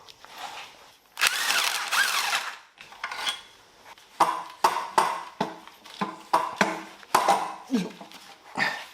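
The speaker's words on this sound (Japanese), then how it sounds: "オルタネーター取れました。" Tools clank and clatter while the alternator comes off a Mazda RX-7 FD3S rotary engine during teardown, with a long buzzing burst early on followed by a rapid run of sharp metallic knocks and rattles, close and fairly loud.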